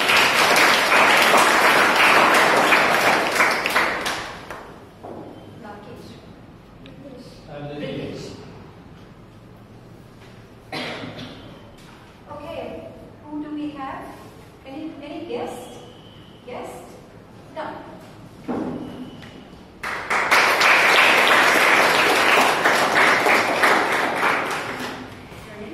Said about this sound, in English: So a round of applause to him.